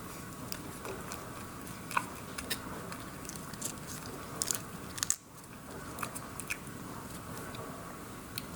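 Someone bites and chews a raw cabbage leaf, giving faint, scattered crisp crunches and soft crackles over a low background hiss, close to the listener, with no speech.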